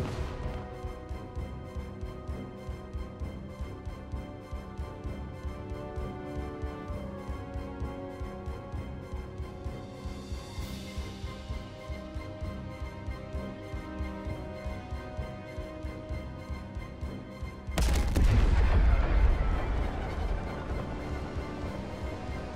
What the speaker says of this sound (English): Very nice explosions.